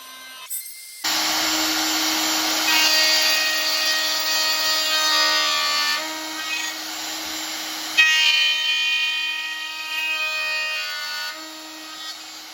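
A router in a dovetail jig cuts a dovetail joint in wood. It starts abruptly and holds a loud, steady high-pitched motor whine for about eleven seconds, close by, with slight shifts as it moves through the cut.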